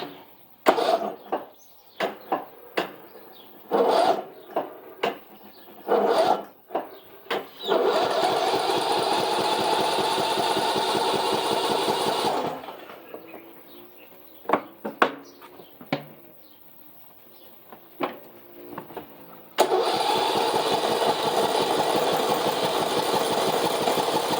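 A Craftsman T2200 riding mower's engine cranks in several short bursts, catches and runs with a steady loud drone, cuts out briefly with a few sputters, then starts running again.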